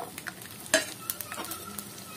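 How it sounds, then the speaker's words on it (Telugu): Garlic cloves frying in hot oil in a pan, a soft sizzle with scattered clicks and one sharper scrape of stirring near the middle, fairly quiet and close. "ఒక ప్యాన్ పెట్టుకుని ఆయిల్ హీట్ ఎక్కాక వెల్లుల్లిపాయలని కొంచెం బ్రౌన్ కలర్ వచ్చేంత వరకు వేయించుకోండి"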